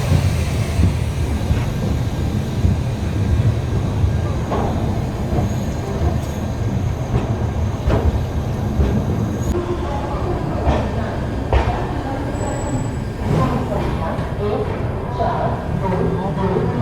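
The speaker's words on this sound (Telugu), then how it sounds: "మన ట్రైన్ వారణాసి జంక్షన్కి ప్లాట్ఫామ్ 9కి అయితే వచ్చింది." A passenger train pulls into platform 9 at Varanasi Junction, with a steady rumble of rolling wagons and wheel noise plus occasional squeals and station clatter throughout, as a voice talks over it.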